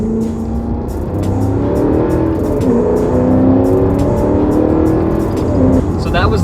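An Alfa Romeo 8C Competizione with a single-clutch gearbox accelerates from inside the car, its engine droning steadily with rising pitch throughout and a brief shift near the end.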